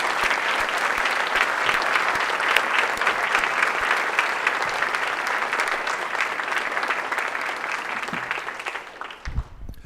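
Sustained applause from a college audience honoring newly promoted professors, a dense steady wash of clapping that holds evenly before thinning out at the end.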